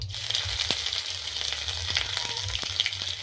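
Chopped ginger dropped into hot oil where cumin seeds have browned, giving a steady close sizzle and crackle with small spits and pops throughout, no voices.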